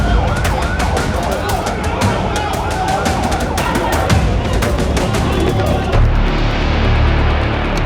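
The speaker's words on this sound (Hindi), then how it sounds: "एक के बाद एक एम्बुलेंस फ्लैश लाइट जलाकर पहुंचती है" An ambulance siren wails as it arrives outside a hospital in Israel, amid loud, busy outdoor noise with sharp clatter and background voices, the siren partly buried in the commotion.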